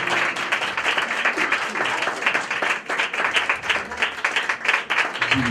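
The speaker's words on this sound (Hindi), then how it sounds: "जोरदार तालियां बजाएंगे" A church congregation claps loudly at a Christmas service, with rhythmic, fairly close applause that swells and dips over several seconds and some voices mixed in.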